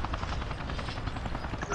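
A helicopter in the video game Resident Evil 5, a loud steady rotor thump with rapid rhythmic chopping that runs through the whole stretch, with people talking over it.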